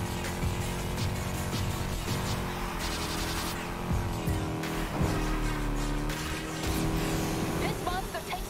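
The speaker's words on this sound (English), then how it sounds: "I love the sound of this engine." A race car engine in the Need for Speed Heat video game drones steadily throughout, loud and continuous, with pitch shifts as it revs, blended with game music and effects while people talk over it.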